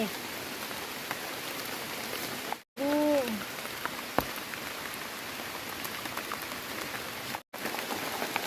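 Heavy rain pours in a dense, constant hiss throughout, with a short bird-like whistle and a couple of brief dropouts breaking the steady downpour.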